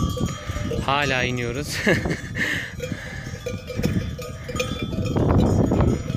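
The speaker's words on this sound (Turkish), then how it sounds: "Bakın şuradakiler koyun." A flock of sheep and lambs coming down a hillside in the evening, with cowbells clanking and repeated bleats near and far while someone talks over them.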